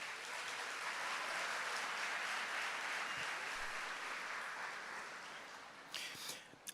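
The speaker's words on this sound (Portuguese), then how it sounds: "vamos aplaudir a palavra de Deus" A church congregation applauds steadily at a Catholic Mass after a Bible reading, a broad, even wash of clapping from many hands that fades slightly toward the end.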